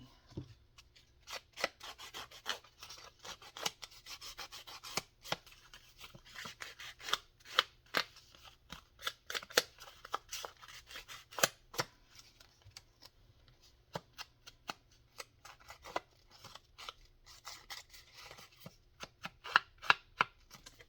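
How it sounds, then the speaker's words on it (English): Scissors snip through a craft piece with a long series of small, crisp cuts at close range. The cuts come in uneven clusters, with soft rubbing and rustling between them. "I would need to cut that part off."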